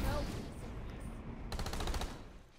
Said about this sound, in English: This guy's firing back here.